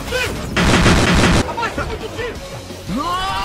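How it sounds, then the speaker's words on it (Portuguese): A loud burst of gunfire-like blasts lasting about a second, with excited voices shouting before and after. "Olha o tiro"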